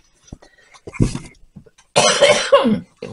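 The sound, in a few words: coughing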